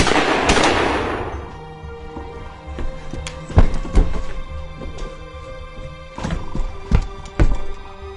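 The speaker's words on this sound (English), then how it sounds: "me and Randy fired some shots at him" Gunshots ring out in a horror movie scene, about six sharp, loud cracks spread unevenly over several seconds, the first landing over a burst of broadband noise and the rest echoing against a rumbling background.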